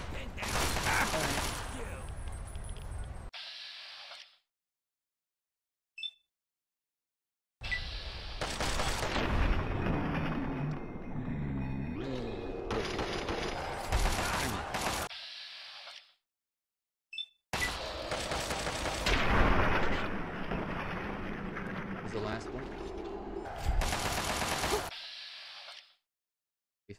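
Gunfire in Fallout 3's The Pitt add-on: dense, loud bursts of shots and combat noise in three long stretches separated by near-silent gaps, with a voice talking through the action.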